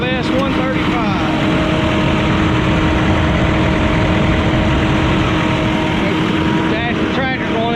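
A brand new Massey Ferguson 5S 135 tractor engine runs steadily and loudly up close with a constant throbbing drone, and a voice talks over it.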